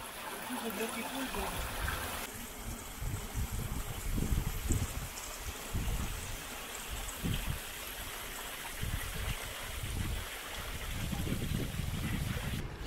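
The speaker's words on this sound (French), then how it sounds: "T'as la petite cascade là, le robinet." A steady rush of water from a small waterfall in Norway runs throughout, close and constant, with a faint murmur of voices underneath.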